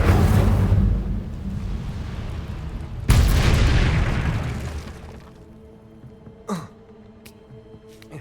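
In Hogwarts Legacy, the Incendio fire spell bursts out twice as heavy roaring blasts, the second sharp and loud, followed by fading rumble and a few brief whooshing flickers.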